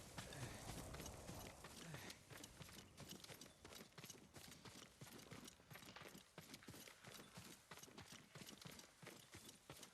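Hooves clip-clop steadily as a horse moves along in the samurai video game Ghost of Tsushima, a brisk, even rhythm of close, fairly loud hoofbeats over a busy ambient background with no talk.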